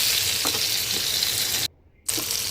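Topse fish coated in ground puffed rice fries in hot oil, making a close, constant crackling sizzle that cuts out for a moment before resuming.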